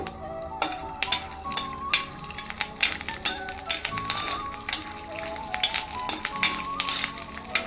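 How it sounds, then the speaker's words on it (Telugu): Peanuts and curry leaves frying in hot oil, a dense crackling sizzle with sharp pops and occasional stirring clinks, close and continuous. "ఈ ఆయిల్లో మనం పల్లీల్ని వేయించుకోవాలి"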